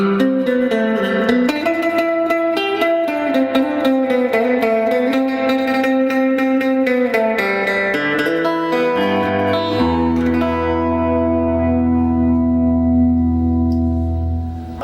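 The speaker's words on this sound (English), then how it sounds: "Definitely going to give us that quintessential classic surf sound, but with a different guitar." A Danelectro electric guitar with split single pickups plays a classic surf tone through a Fender Pro Junior tube amp, a steady stream of reverb-soaked picked notes that ends on a long, ringing chord.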